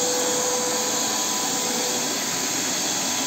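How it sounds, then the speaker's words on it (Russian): A vacuum cleaner roars steadily while cleaning the rusty underside of an old car trailer in a dusty garage, a loud, continuous broadband whine with no talk. "Пылесос два раза уже вытряхал."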